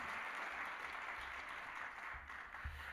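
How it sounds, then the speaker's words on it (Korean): A church congregation applauds a departing pastor who served three years, a steady broadband wash of many hands clapping throughout, moderately loud and continuous with a few low thumps near the end. "박수로 한번 격려하겠습니다."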